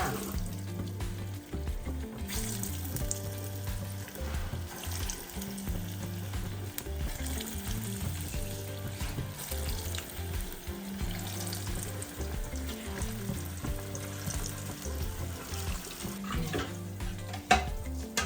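Bottle gourd kofta balls fry in hot oil with a continuous bubbling sizzle, steady and close throughout, while a low tonal background hum runs beneath and no one speaks.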